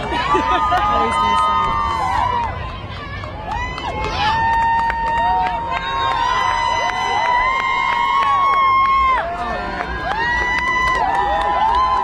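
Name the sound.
parade crowd cheering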